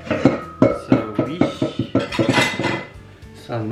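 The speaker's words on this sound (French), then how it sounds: "pendant que je remplis de la vaisselle" Dishes and cutlery clatter as a dishwasher is loaded in a busy family kitchen, a close run of sharp clinks and knocks that comes in quick bursts and then grows denser.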